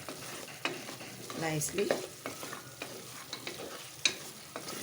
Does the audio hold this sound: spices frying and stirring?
yes